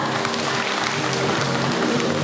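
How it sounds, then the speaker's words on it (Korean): Audience applause during an award ceremony at a civic association members' meeting in Daegu, a steady dense clapping wash that fills the moment without breaks and stays moderately loud throughout. "여러분 큰 박수 부탁드립니다"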